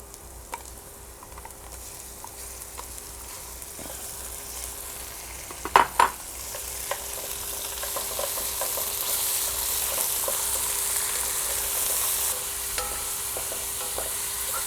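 Beef meat fries in a pan with garlic, a steady sizzle close up with a couple of sharp utensil knocks against the pan partway through and stirring noise over the hiss.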